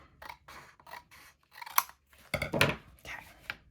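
Scissors shave a little off a folded sheet of paper for a one-sheet penpal flipbook, giving a run of close, crisp snips and rasping cuts with two louder strokes in the middle.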